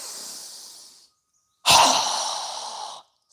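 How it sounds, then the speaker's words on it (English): Two quick, forceful exhales through the mouth during yoga breathing, close and loud, the second sharper and longer after a brief silence. "exhale through our mouth with a quick, strong exhale as we lower our hands down"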